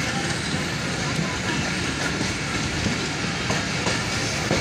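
A Rocket Mail local train hauled by a WDM-3D diesel locomotive rumbles steadily through a local railway station, with continuous loud wheel noise and faint clickety-clack on the rails.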